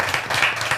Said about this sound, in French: mais on peut applaudir on aussi. peut applaudir.